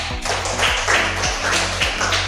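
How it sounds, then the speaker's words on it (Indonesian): Small group applauding at an AI job-training session, a short burst of clapping in a few distinct rhythmic beats, close and fairly loud. "tepuk tangan dulu"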